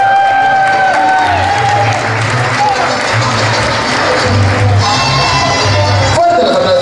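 Loud crowd applause with whoops and cheers at a Mr. Vaquero Internacional pageant night, dense and continuous, with a voice talking over the crowd noise.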